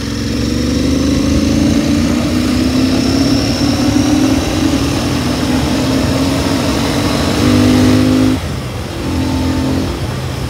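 A Royal Enfield GT 650 motorcycle revs hard while accelerating in third gear, its engine note rising steadily and loud for about eight seconds, then easing off abruptly before picking up again.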